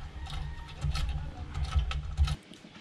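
Bolts on an alloy motorcycle top box being tightened by hand, a quiet close-up series of rapid ratcheting clicks and metallic rattles that stops abruptly near the end.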